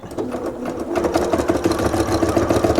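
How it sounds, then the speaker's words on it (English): A sewing machine hums close up and continuously while sewing along a marked line for a faux flange binding, its rapid stitching loud and steady throughout. "And you're going to just sew right along that line."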